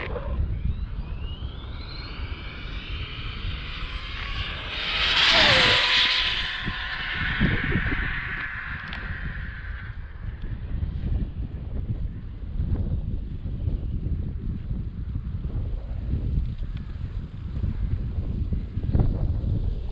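An Arrma Infraction V2 GT RC car makes a high-speed run on an open road in wind, whining past with a sharp rising-then-falling whoosh around the middle, then fading under steady wind rumble.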